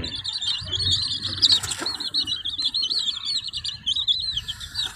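Pet chicks chirp in a continuous, high, busy chorus close by, with a brief rustle of movement partway through.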